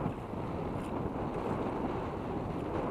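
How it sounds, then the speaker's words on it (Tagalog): Steady wind buffets the microphone over a broad wash of sea waves off Lucena City, Philippines, a dense continuous roar from start to finish. "medyo may hangin at alon ng ating karagatan ngayon"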